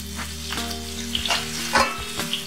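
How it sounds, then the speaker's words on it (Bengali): Potatoes fry in oil on a low flame while being stirred, a steady sizzle broken by repeated scraping and clinking of the spoon against the pan, with no voices. "একটু ভালোভাবে নাড়াচাড়া করে নিচ্ছি যাতে সব দিকে তেলটা লেগে যায়।"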